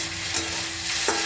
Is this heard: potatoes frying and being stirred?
yes